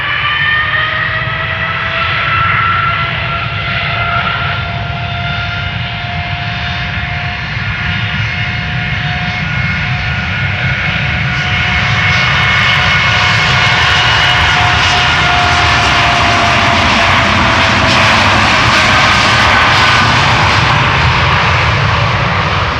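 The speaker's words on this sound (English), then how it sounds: "we have another Dreamliner lining up and ready to go at moment's notice" An Air Canada Boeing 787 Dreamliner with GEnx engines takes off, a loud continuous jet roar with a whining engine tone that swells and brightens as it climbs away.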